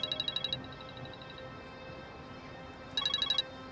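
Mobile phone ringtone in an indoor drama scene: two short bursts of rapid, bright repeating electronic trills, one at the start and one near the end, separated by a quiet room hum, with no talking.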